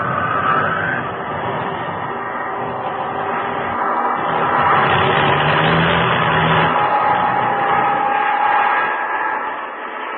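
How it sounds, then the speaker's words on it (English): Aircraft engine in a radio drama effect drones and wavers, rising and falling unevenly as if losing power, a steady mid-pitched mechanical hum with no voices. "when the motors conked out completely"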